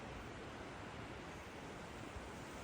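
A waterfall along the Dove Lake trail at Cradle Mountain, Tasmania, gives a continuous, even broadband rush of falling water, steady and fairly close with no voices.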